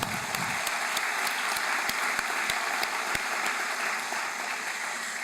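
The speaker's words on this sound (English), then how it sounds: "Yes, we can actually applaud here." Steady, dense applause from a large audience at an opening convocation for an incoming college class, loud and continuous throughout with no speech over it.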